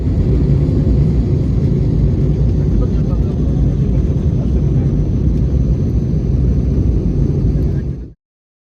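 Steady, loud airplane engine rumble fills the cabin without a break for about eight seconds, then cuts off abruptly.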